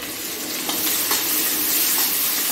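Onions and carrots fry in a pan for rava upma with a steady, loud sizzle. Faint scraping of stirring sounds through it, and nobody speaks.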